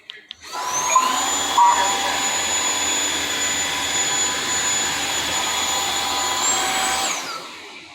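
A Tineco Floor ONE S5 cordless wet-dry vacuum and mop runs with a steady, loud, high-pitched whine and airflow roar that holds for about six seconds, then cuts off.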